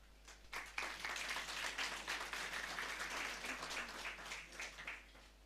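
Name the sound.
congregation applause for the choir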